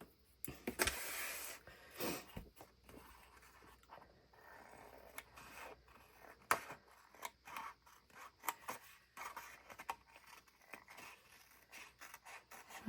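Scissors snip through paper while cutting pieces for a Dutch door bullet journal spread, with a series of close, crisp cuts and rustles coming in uneven bursts and no talking.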